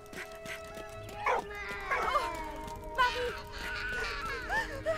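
A dog in the video game Valiant Hearts gets struck, letting out several short yips and whimpering cries spread over a few seconds amid faint game ambience.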